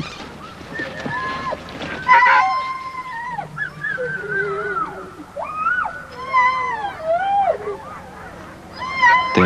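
Sled dog puppies at Daneborg in the Arctic howl together in long, wavering, overlapping cries, several voices rising and falling close by over a faint low background rumble.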